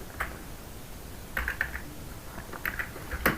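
Light, quick keystrokes of Python code being typed on a computer keyboard, soft and close, in short irregular clusters of clicks against a quiet room.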